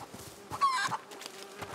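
A chicken clucks in the video game A Plague Tale: Innocence, a brief, faint burst of fowl calls set against a quiet game background.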